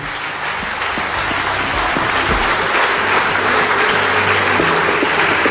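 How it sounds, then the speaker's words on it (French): A church congregation applauds loudly and steadily to acclaim the Lord during a Sunday worship service, a dense, continuous wash of clapping throughout. "Acclamons le Seigneur. Acclame Jésus"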